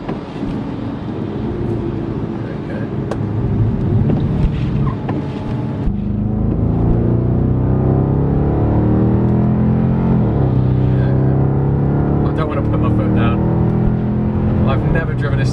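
A salvaged Mercedes C63 drives on the road in manual mode, its engine droning loud and steady from inside the cabin, the pitch climbing and shifting as it revs through the gears.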